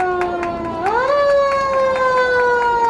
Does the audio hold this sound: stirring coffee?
no